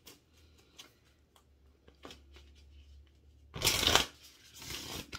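Quiet taps and small handling noises, then a loud burst of cards being riffle-shuffled close up for about a second, followed by a softer flutter.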